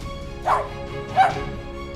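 Two short, separate dog barks sound at moderate distance over a steady low background hum, with a pause between them and no talking.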